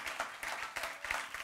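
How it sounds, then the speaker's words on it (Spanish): A film-event audience applauds in a large hall, a brief burst of scattered hand claps that is faint and distant. "gracias por este aplauso tan espontáneo"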